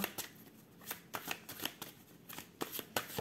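Oracle cards are shuffled by hand close up and quietly, a run of quick papery riffles and soft slaps in an irregular rhythm, with no talking.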